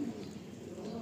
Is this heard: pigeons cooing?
yes